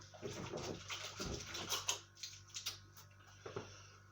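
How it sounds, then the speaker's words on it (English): Hands being washed under running tap water in a home kitchen while preparing spaghetti Bolognese with meatballs: soft, quiet splashing and patter of water over hands, low and close, without speech. "I'm just going to wash my hands."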